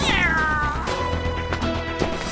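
A cat in the video game Ice Scream 2 lets out a loud drawn-out meow, then softer mewing sounds over game background noise, with no talk.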